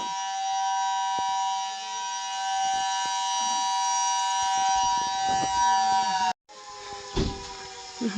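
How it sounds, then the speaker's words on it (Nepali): A loud, sustained 6 a.m. siren wails steadily for several seconds, cuts off abruptly, then resumes briefly alongside some background noise. "यो चाहिँ कति 6 बजीको साइरन लागेको होला"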